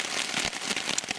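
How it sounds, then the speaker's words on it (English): Heavy rain drumming on a tent or hammock while backpacking in Pennsylvania, a dense close hiss with scattered sharper drop impacts, steady and fairly loud, with no voices. "It's raining, cats and dogs."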